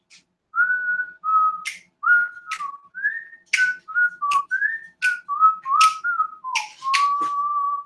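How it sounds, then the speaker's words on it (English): A person whistles a lively, wandering tune of short bright notes and quick slides, clear and close with no talking. "can you whistle?"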